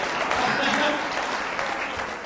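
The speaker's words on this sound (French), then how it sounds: "Applaudissez pour elle" A live studio audience at a televised debate breaks into dense, sustained applause, steady and loud across the whole stretch, with a voice speaking over the clapping.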